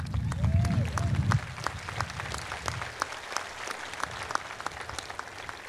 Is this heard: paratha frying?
no